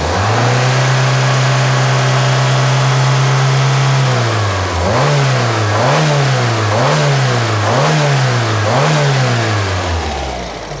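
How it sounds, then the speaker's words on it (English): Following a rebuilt-carburetor idle, the engine holds a steady drone for about four seconds, then is blipped through five quick rising-and-falling revs in a row before settling back, loud and close with no voices. "Clear its lungs, it's been idling for a while."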